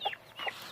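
Poule coucou hen clucking close by in two short, bright bursts, quiet and with no other sounds around it.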